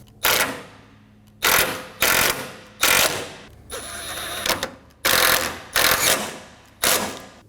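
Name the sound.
ratchet snugging down cooling fan bolts on Dodge Durango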